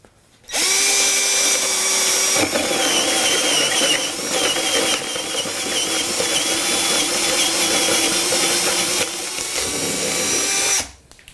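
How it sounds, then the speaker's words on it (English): A RIDGID drill spinning a hole saw through 3/4 inch plywood, one loud continuous cutting whine of about ten seconds that starts abruptly, shifts pitch partway through as the saw bites deeper, and then stops. "we'll go ahead and drill a hole with the RIDGID."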